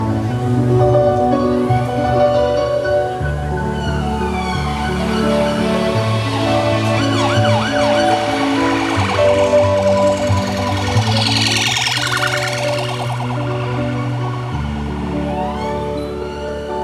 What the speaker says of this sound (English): That's the first police car I've actually noticed